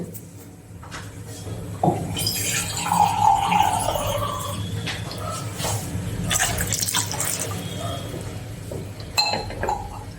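Water splashes into a cooking pot of amla candy in a home kitchen, with running and pouring sounds and light clinks of metal and glass against the vessel. The sounds come in uneven bursts at close range, with some voice in the background.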